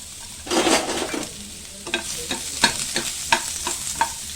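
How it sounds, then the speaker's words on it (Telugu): Onion fries in a little oil in a pan, a bright sizzle that surges as it hits the oil, then settles under repeated scraping strokes of a spatula stirring it. "కొద్దిగా ఆయిల్ వేసి ఈ ఆనియన్ కూడా వేసుకుందామండి"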